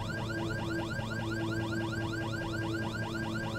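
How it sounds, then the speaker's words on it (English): A cockpit warning alarm sounds during an engine failure in the Black Square King Air in Microsoft Flight Simulator: a rapid, continuous warbling chirp repeating in an even rhythm over a low steady hum. "You have to excuse the alarm for now."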